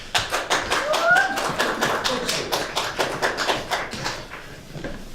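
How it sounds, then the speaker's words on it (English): A small rehearsal audience claps for a guest called to the stage of a mock talk-show set, giving a loose, uneven patter of hand claps with individual claps still audible, fairly close. "Round of applause, please."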